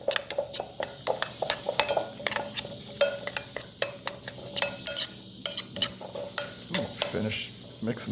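Homemade fish food mixture for reef aquarium fish stirred in a bowl, with rapid repeated clinking and scraping strokes from a utensil, close and fairly loud, with no talking.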